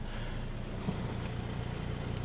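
A MINI Cooper S engine idles steadily with a low, continuous rumble, fairly quiet and unchanging throughout, no talking over it.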